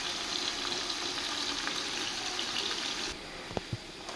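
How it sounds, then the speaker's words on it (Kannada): Garlic and ginger paste fries in a pan for mutton biryani, giving a steady, close hiss and sizzle that drops slightly near the end before a couple of sharp utensil knocks. "ಫ್ರೆಂಡ್ಸ್ ಬೆಳ್ಳುಳ್ಳಿ ಪೇಸ್ಟ್ ಮತ್ತು ಶುಂಠಿ ಪೇಸ್ಟ್ ಹಾಕೋತಾ ಇದ್ದೀನಿ."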